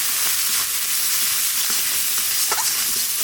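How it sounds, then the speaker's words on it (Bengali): Ground cumin, coriander, chilli powder and turmeric fry in hot oil, giving a loud, steady, close sizzle that fills the whole stretch without any voices. "মশলা ভাজা হয়ে গেছে, এবার জল দিয়ে দেবো।"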